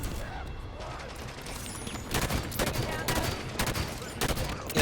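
Gunfire in the video game Halo 5: Guardians, with repeated bursts of shots cracking over a steady background of game sound. The shots grow denser and louder in the second half, and a voice may be faintly present.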